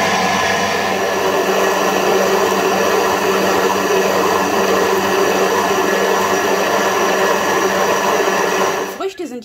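A Thermomix (TM31, TM5 or TM6) runs at speed 8 while washing fruit, giving a loud, steady whirring drone that holds for about nine seconds before it winds down abruptly.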